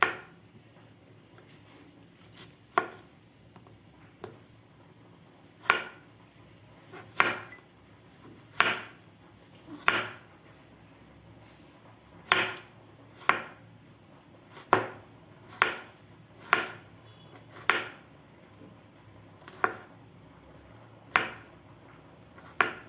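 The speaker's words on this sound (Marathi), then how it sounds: "मी 2 हिरव्या मिरच्या घेतलेल्या आहेत आणि थोडीशी कोथिंबीर घेतलेली आहे. ते कापून घ्यायचं आपल्याला." A knife chops green chillies and fresh coriander on a board, giving roughly twenty crisp, evenly spaced cutting taps over a quiet kitchen background, with no talking.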